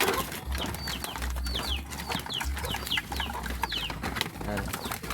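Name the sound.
birds being fed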